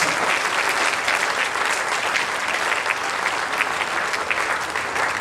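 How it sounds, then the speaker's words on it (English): Sustained applause from an audience at a tech expo in Ghana, a thick wash of many hands clapping at steady moderate loudness for several seconds. "And once again, applause for our CEO."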